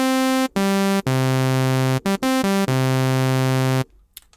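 A synthesizer patch from the Massive plugin plays sustained, buzzy harmonic tones in several held notes separated by brief gaps, loud and alone, ending in a short noisy tail.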